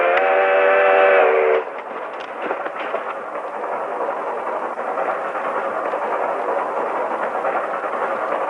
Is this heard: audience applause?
no